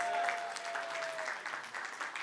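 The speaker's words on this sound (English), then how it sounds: "One more round of applause for Miss Reese Lee." Audience applause at a tech conference expo, a steady crowd clapping that fills the room for a couple of seconds at moderate level, with no voices standing out.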